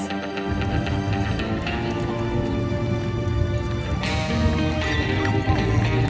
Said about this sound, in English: Miniature horses have a gentle nature.